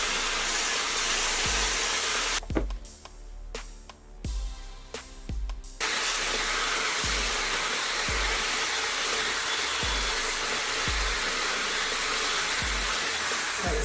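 Cweixi air styler blowing hot air while drying hair, a loud constant whooshing hiss with a brief drop in the middle where the airflow shifts and soft thumps of handling, no speech.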